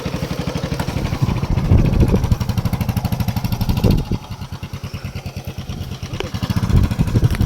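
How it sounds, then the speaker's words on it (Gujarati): A motorcycle engine chugs close and loud in a rapid, even rhythmic thump, rising and dipping slightly as it runs on a farm trip, with no talking. "આપણું બાઇક આવી ગયું ચાલુ થઈ ગયું છે આપણે જવા દેવાના બાઇક ચલાવી"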